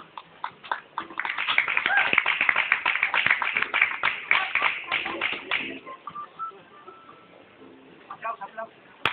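A tango show audience in a Buenos Aires night venue breaks into dense, steady applause that thins out into scattered claps, with faint voices underneath.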